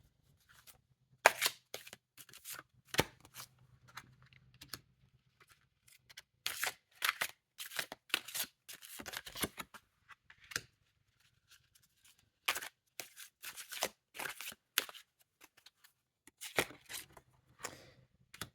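Oracle cards shuffled by hand for a tarot love reading, giving repeated crisp riffling and flicking bursts in quick clusters with short pauses between, close up and fairly quiet, no voices.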